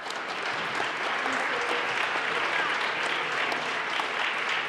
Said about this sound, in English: please give these folks,